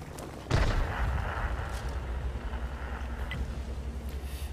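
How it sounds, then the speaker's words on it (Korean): A heavy tank blowing up in World of Tanks, a sudden booming blast followed by a rumbling decay under a low continuous engine drone, moderately loud and fairly close. "헤비 터진다"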